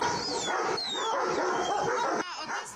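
Dogs at a city animal shelter in Cherkasy, which holds about 170 of them, bark and yip nearly nonstop in a dense, overlapping chorus, with some close and some farther back.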